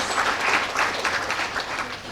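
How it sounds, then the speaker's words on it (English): A crowd applauds steadily, a dense wash of many hands clapping at once that holds for a couple of seconds. "Clap for yourselves."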